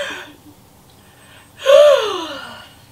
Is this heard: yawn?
yes